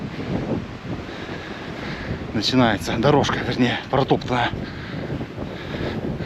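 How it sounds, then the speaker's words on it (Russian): Strong winter wind buffets the microphone on a snowy trail at the Krasnoyarsk Stolby, a rough continuous roar and rumble, with someone talking over it in the middle. "Сразу извиняюсь за ветер."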